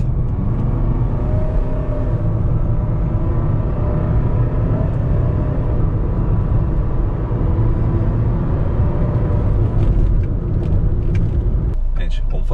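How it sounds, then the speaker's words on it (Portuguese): Jeep Renegade Sport diesel 4x4 accelerating from 40 to 100 km/h as if overtaking a truck: a steady loud cabin rumble of engine and road noise, with a shift in tone near the end. "Vamos fazer agora o de 40 a 100, simulando a ultrapassagem de um caminhão."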